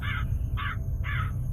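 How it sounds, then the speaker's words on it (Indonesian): A crow on Mount Lawu gives three harsh caws in an even rhythm, each about a quarter second long, over a steady low rumble of wind. "suara burung gagak itu terdengar lagi"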